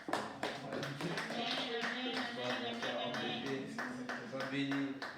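A church congregation claps steadily in quick rhythmic beats to acclaim the preacher, with voices and music mixed in underneath.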